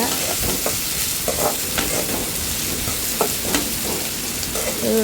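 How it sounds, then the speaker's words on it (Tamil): Onions stirred with salt in a pan for a chicken gravy, a steady sizzle under repeated scraping strokes of a spoon against the pan, close and continuous. "இந்த வெங்காயம் வேகிறதுக்கு நம்ம கொஞ்சம் உப்பு போட்டுக்கலாம் போட்டுட்டு எல்லாத்தையும் நல்லா கிளறி விட்டுக்கோங்க"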